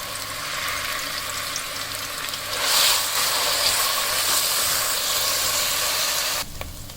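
Onion, ginger and garlic frying in hot cooking oil give a steady, broad sizzle and hiss that holds throughout and swells briefly near the middle, with a low rhythmic mechanical hum underneath and no talking.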